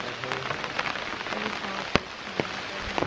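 Steady rain falls on the Appalachian Trail at Sages Ravine, a dense close patter of drops with a few sharper louder hits scattered through.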